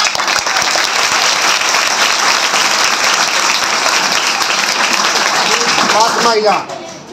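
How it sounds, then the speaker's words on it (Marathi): An audience at a Savitribai Phule birth anniversary event claps loudly and steadily, a thick continuous wave of applause that tapers off near the end as a voice begins speaking. "दादासाठी टाळ्या झाल्याच पाहिजे"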